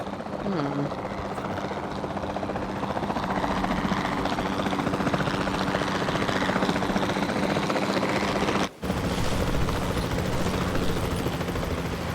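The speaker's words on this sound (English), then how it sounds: "Then the sensible thing is to take a capture team helicopter." Capture team helicopter in Jurassic World Evolution 2 thrums loudly and continuously with rapid rotor chop and engine whine, close and constant, while voices talk over it.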